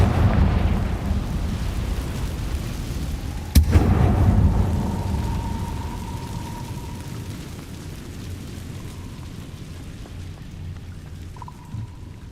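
A Confringo spell blast in a Hogwarts video game: one sharp explosive crack followed by a deep rumbling roar that slowly fades, with a faint tonal ring lingering afterward.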